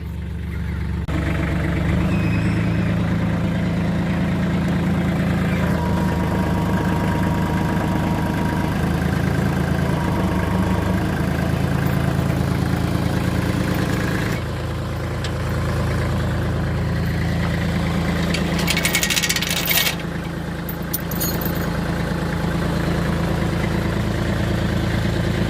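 Farm tractor engine idles steadily nearby on pasture land, a low, continuous rumble with a brief shift in tone midway and a short clank near the end.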